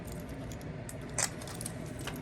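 Keys on plastic name badge holders from a Dollar Tree haul give a brief, faint jingle partway through, alone against a steady background hiss.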